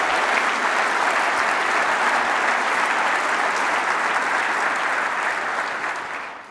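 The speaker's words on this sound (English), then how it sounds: "So just give her a quick round of applause." A conference audience gives a loud, steady round of applause at a professional meeting, the clapping sustained for several seconds before tapering off at the end.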